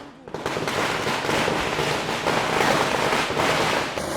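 Firecrackers burst on Diwali night in a dense, continuous crackle of overlapping pops, loud and close, starting abruptly and running almost unbroken for about four seconds.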